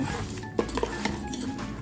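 Close, soft clinks and scrapes of chicken being mixed by hand with seasoning in a metal rice-cooker pot, with a few sharper taps against the rim.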